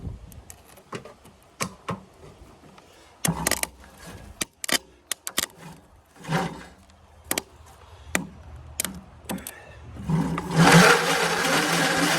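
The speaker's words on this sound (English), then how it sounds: "I never tried the electric starter yet to see if it would crank at all" Electric starter on an Agricat aircraft engine, several short separate bursts and clicks as it is tried, then a longer loud grinding crank near the end, all close by with no talk.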